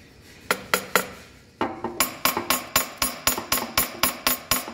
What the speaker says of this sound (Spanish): dándole así como unos golpecitos, lo que vendría siendo pues aquí en el mofle